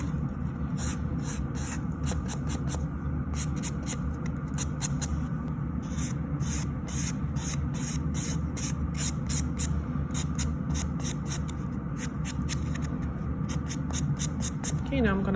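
A nail e-file drill turns slowly at about 3,000 RPM while buffing peeling, damaged nails in a manicure. It gives a steady low whir with scratchy rubbing and small clicks throughout.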